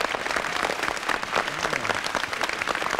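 A 1974 Austrian TV studio audience gives continuous dense applause to welcome the Irish composer Phil Coulter, steady and close for the whole stretch.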